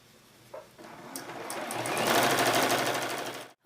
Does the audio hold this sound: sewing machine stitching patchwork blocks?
yes